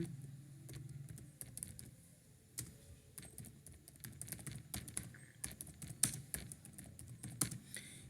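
Quick clattering keystrokes on a computer keyboard while entering a git commit command, an uneven run of sharp clicks close up with brief pauses and no voice.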